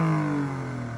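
An Alfa Romeo Stelvio Quadrifoglio with a 505-horsepower twin-turbo 90-degree V6 revs in a brief, loud, close burst, its engine tone sliding steadily as the revs fall back.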